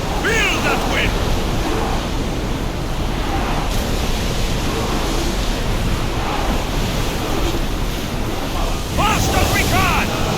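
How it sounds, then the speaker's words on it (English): Wind and sea waves rush loudly in a steady broad roar while sailing a ship in the video game Assassin's Creed Odyssey, with a few brief whistling tones rising over the noise near the start and end. "Feel that wind!"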